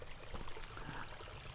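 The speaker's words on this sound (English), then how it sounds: "Tons of water gushing out around it, all over the ground here." Natural spring water wells out of the ground at a spring site, a faint, steady trickling and gurgling wash that continues alone without any voices.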